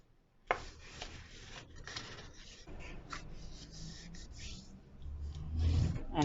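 Cardstock pieces for a reindeer teepee card are folded and burnished, with soft rubbing and creasing scrapes close by, a sharp tap near the start and a heavier rustle toward the end.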